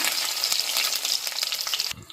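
Garlic sizzles and crackles loudly in hot coconut oil with popped mustard seeds, a bright continuous frying hiss that suddenly quiets near the end with a soft thud.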